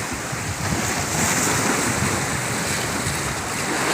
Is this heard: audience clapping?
no